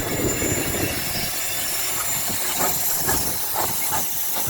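Steam locomotive Jurassic on a light coast railway lets off a loud, continuous hiss of steam, close by, with faint clanks and wheel noise beneath and no voices.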